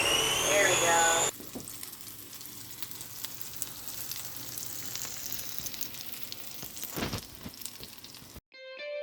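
Zucchini frying in a pan and getting stirred, a steady close sizzle with scraping stir strokes, a brief louder burst near the start, ending in a short cut.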